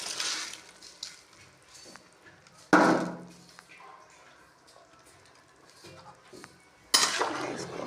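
Rice being added to a pot of cooked water and stirred for a mixed vegetable pulao. The clip is mostly quiet, with a few sharp clinks and scrapes of a utensil against the metal pot and louder bursts of stirring.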